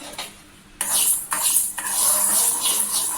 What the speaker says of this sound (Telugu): ఇప్పుడు ఇందులోనే కొంచెం ఆవాలు అయితే వేసుకుందాం